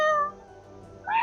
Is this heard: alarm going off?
no